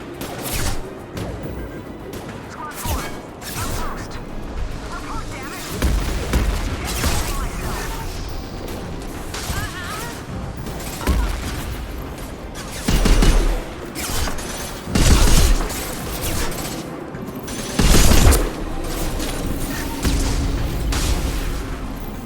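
Gunfire and heavy impacts in the video game Mass Effect 2: bursts of shots with several loud booming hits and crashes, under a steady game soundscape, with some talk alongside.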